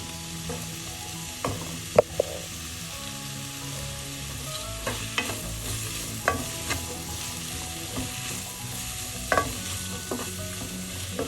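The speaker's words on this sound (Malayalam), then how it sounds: "ലോ ഫ്ലെയിമാക്കി വഴറ്റാം." Garlic chicken sautés in a pan over a low flame, a steady quiet sizzle with scattered spatula scrapes and clacks recurring every second or two, close and fairly soft, with no talking.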